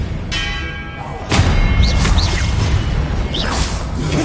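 Expelliarmus disarming-spell effect in the Hogwarts Legacy video game: a sharp whoosh and ringing, bell-like impact followed by a heavy thump, with further shimmering spell swishes and bursts trailing after.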